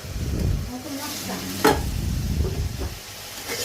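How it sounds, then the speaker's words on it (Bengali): Turmeric, chili powder and whole green chilies stirred and frying in a hot pan, a close, dense sizzle with scraping spatula strokes and one sharper clatter, no voices. "হলুদের গুঁড়া একটু মরিচের গুঁড়ো আর কাঁচামরিচ দিয়ে দেবো আস্ত কাঁচামরিচ দিয়ে ভালো করে নেড়ে চেড়ে এটা ঢেকে দিব কষাবো ভালো করে"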